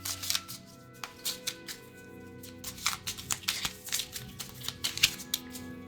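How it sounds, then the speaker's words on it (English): A deck of cards being shuffled on a tabletop while playing a Skyrim adventure board game, with a series of quick riffling, clicking bursts at close range, fairly quiet and without talk. "give these a quick shuffle"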